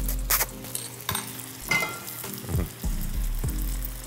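Spaghetti for garlic noodles sputters and sizzles in a pan over the highest heat, a steady close frying crackle with bursts of popping and stirring scrapes, no talking.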